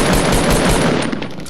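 Dense, loud automatic gunfire in a video game, a rapid unbroken burst of close shots filling the whole moment.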